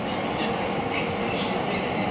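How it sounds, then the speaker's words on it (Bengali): Steady, loud rumble and roar of an underground metro train in motion, heard from inside the carriage, with no breaks over the short stretch. "আন্ডারগ্রাউন্ড মেট্রো চেপে যাচ্ছি"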